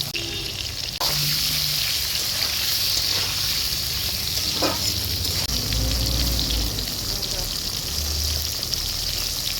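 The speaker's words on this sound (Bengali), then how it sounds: "জিরে দিয়ে দিচ্ছি, ঝিঙেগুলো ভালো করে ভেজে নেব।" Sliced ridge gourd fries in hot oil with cumin seeds, giving a steady bright sizzle with occasional stirring scrapes and clinks, while someone talks over it.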